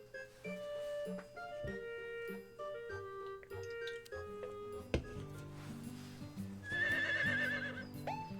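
A horse in the Harvest Moon farming video game neighs with a bright whinny near the end, over a plinking melodic game soundtrack with soft hoof clip-clop and no voices.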